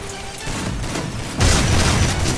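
Grenades explode in a Free Fire zombie hunt mode: a steady low rumbling din of blasts, then a louder, denser boom that swells near the middle and keeps rolling.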